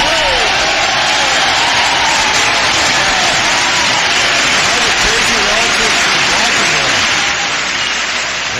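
A recorded applause sound effect plays on a radio talk show, dense and loud steady clapping that runs the whole time with voices talking underneath.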